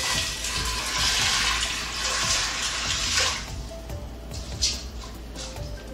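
Water pours steadily into an Instant Pot over dry beans, a broad rushing gush that is loud and close at first, then eases into lighter splashing and trickling toward the end.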